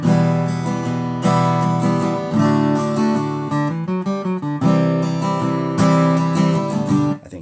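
A guitar riff played with rapid alternate picking, steady even notes ringing over sustained chords, loud and close with no talking.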